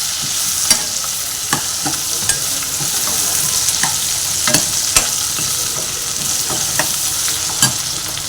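Green chillies, onion and ginger frying hard in hot oil for ragi upma, a loud, continuous close sizzle with repeated scrapes and knocks of a spatula stirring through the pan.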